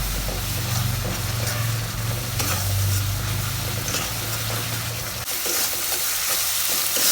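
Chili and coriander powders fry in hot oil for a hilsa fish and bottle gourd curry, a loud, close, continuous sizzle with stirring scrapes that changes character partway through.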